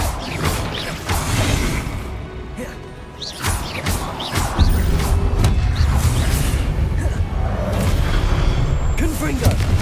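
Confringo blasting spells in Hogwarts Legacy crash and boom several times amid dense combat noise, with loud impacts landing in quick succession.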